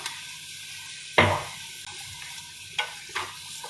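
Onion, garlic and mixed herbs of parsley, oregano and thyme in a pot for mushroom risotto give a soft, steady sizzle. A few sharp utensil knocks and stirring clatters rise over it.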